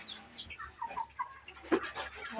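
Chickens clucking and squawking close by, several short calls overlapping in a busy farmyard with faint background noise.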